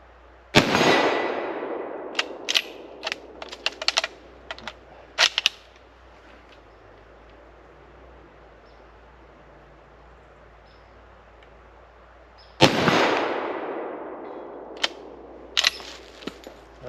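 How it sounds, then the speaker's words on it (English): Two loud, sharp shots from a World War II No.4 Mk1 Lee Enfield .303 rifle at an outdoor range, each trailing a long echoing decay, spaced well apart, with faint clicks and handling noises between them. "That's 4 shots from our World War II Enfield."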